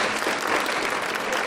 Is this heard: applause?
yes